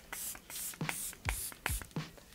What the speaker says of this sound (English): Then I'm gonna use some of my Charlotte Tilbury setting spray.